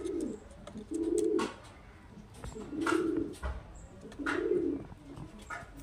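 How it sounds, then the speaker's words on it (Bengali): Madras pigeons cooing in a steady series of low, throaty coos that come in repeated bursts, fairly close, with a few faint chirps behind them. "দুটোই কিন্তু ম্যাড্রাস পায়রা।"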